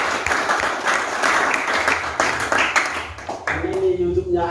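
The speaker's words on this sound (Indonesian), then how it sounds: "berikan tepuk tangan bagi bapak ini." An audience at a school staff introduction and welcome event claps loudly in a dense, steady burst for about three and a half seconds. The applause then thins out as a voice and tonal sounds take over.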